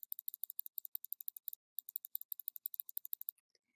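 A computer mouse clicks rapidly in two quick bursts of crisp, close, quiet clicks with a short pause between, then a few faint final clicks; no talking.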